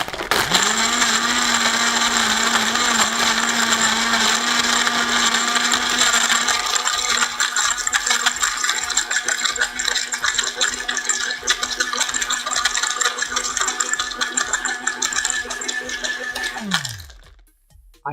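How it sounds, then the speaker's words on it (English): A blender whirs loudly and steadily for about seventeen seconds, rattling as it churns a chocolatey slushie Brown Derby drink, then winds down and stops. "Here comes the blender."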